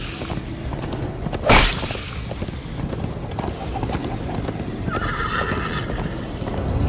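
In the Minecraft Story Mode video game, horses gallop with a steady clip-clop of hooves and one horse gives a sharp, loud whinny, while characters talk briefly.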